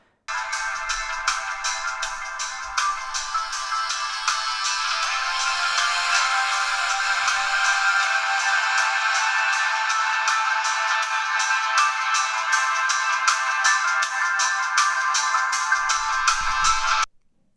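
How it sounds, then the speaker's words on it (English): A ringtone plays through a Cube iWork1x tablet's small, tinny loudspeakers, bright and thin with almost no bass, looping steadily and fairly loud until it cuts off. "they have very tinny sounding speakers. There's like zero bass on them"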